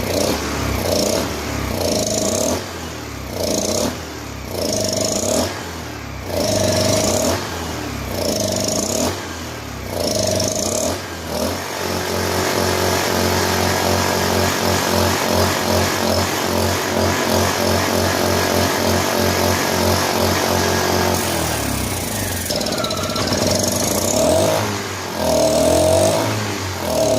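A Honda EU1000i portable generator with a faulty idle system and its air cleaner removed runs rough up close, surging and dipping in uneven pulses before settling into a steadier, loud, buzzing drone that keeps wavering.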